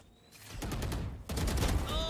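Rapid automatic gunfire in the Valorant video game, dense sustained bursts of shots that nearly fill the clip, loud and close, with a brief gap partway through before the shooting resumes.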